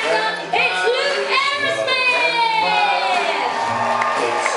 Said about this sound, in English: please put your hands together for your host